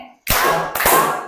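Two sharp, loud hand claps in quick succession from a class doing the mosquito-and-wind clapping game, each a crisp burst with a short ringing tail, close and dry.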